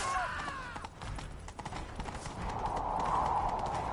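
Rapid hoofbeats of a galloping horse in The Witcher 3, dense and rhythmic, with a brief neigh at the start and a rushing background.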